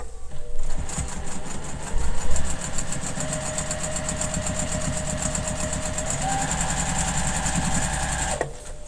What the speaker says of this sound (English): I'm going to sew with my point side up.